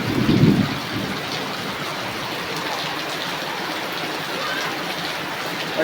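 Heavy rain pours steadily over flooded homes and fields, a dense continuous hiss opening with a brief low rumble of thunder.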